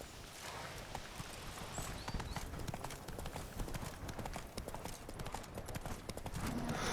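In The Witcher 3: Blood and Wine, the horse Roach trots along with quick, close, steady clip-clopping hooves over a bed of ambient game sound.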